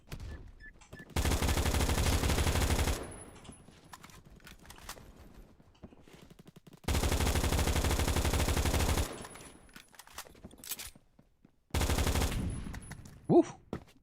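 Long bursts of automatic Grendel rifle fire hip-fired in Deep Rock Galactic, three loud sustained volleys of about two seconds each separated by quieter stretches, with a short final burst near the end.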